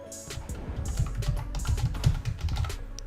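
Fingers tap out an email address on a computer keyboard in a quick, uneven run of light key clicks, close and clear, with no talking over it.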